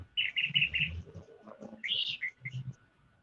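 Birds chirp nearby in a few quick bursts of bright, repeated tweets, with short, clear calls separated by brief pauses and no speech over them.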